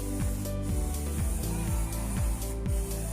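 Bosny tire shine sprays onto a car tire in repeated short hissing bursts, about eight quick pumps in steady rhythm, heard close and loud.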